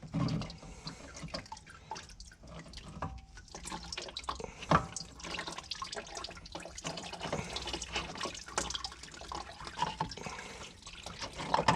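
Engine oil draining from a Porsche Cayenne 958 92A V6 during an oil change, a faint continuous trickling and splashing of liquid with scattered drips, quiet and steady with no voices.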